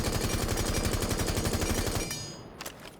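Sustained automatic rifle fire with a flash hider in Rainbow Six Siege, a rapid unbroken burst for about two seconds, then the rattle stops and a couple of faint clicks follow.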